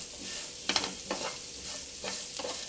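Bitter gourd curry with onion sizzles in a pan as it is stirred, a steady hiss of frying broken by a few scraping strokes of the spoon, close and moderately loud, with no talking.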